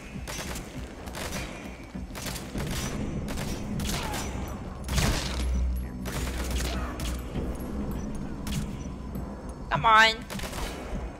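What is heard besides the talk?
gunshots in Metal Gear Solid 5 video game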